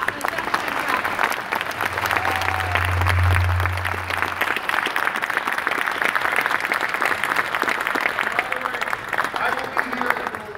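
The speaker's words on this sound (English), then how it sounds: "a round of applause for John Cox, the gentleman traveler" Audience applause at a 2018 California gubernatorial election debate between Travis Allen and John Cox, a steady, dense round of clapping that fills the whole clip with crowd noise and a brief low hum partway through.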